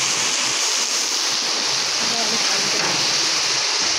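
Floodwater rushes along a riverbank in flooded Tirunelveli district, a loud, steady broadband roar of churning water that continues without a break.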